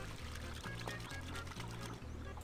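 Water pouring in the My Summer Car video game, a continuous low, fairly quiet gurgling stream with a pulsing rhythm, alone without speech.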